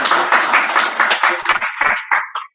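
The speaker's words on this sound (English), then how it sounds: "Why don't you stop clapping?" Audience clapping at a Purim lecture by a rabbi, loud close rhythmic claps from a group that thin out and stop abruptly at the end.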